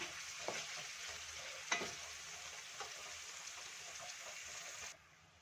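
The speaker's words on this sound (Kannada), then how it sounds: "ನೋಡಿ ಫ್ರೆಂಡ್ಸ್ ಚೆನ್ನಾಗಿ ಕುದೀತಾ ಇದೆ" A pan of water comes to a boil while cooking paneer pulao, a steady bubbling sizzle with a few soft stirring knocks, continuing evenly until it cuts off near the end.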